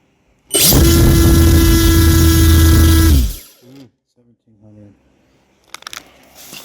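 A Tenshock 1515-15T electric motor with a 5:1 gearbox, run on 4S for an F5J glider test, spins up suddenly to a loud, steady high-pitched whine with a whirring prop roar, holds for about three seconds, then winds down to quiet.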